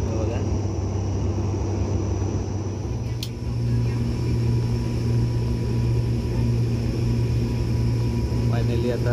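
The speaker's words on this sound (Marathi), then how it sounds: "आता आपलं विमान आहे ते लँड होणार आहे" Steady, loud engine drone with a low hum fills the cabin of a passenger airplane on a Mumbai to Sindhudurg flight as it descends toward landing along the Konkan coast, unbroken throughout.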